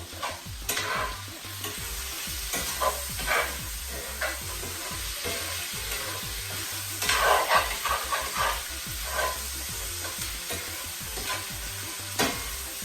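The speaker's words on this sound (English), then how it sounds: "keep stirring your pot as you go along" Curry goat being stirred in a pot for Jamaican cooking, with garlic in the mix: steady scraping stirs and a continuous sizzle under them, close and fairly loud, with a few sharper clacks of the spoon.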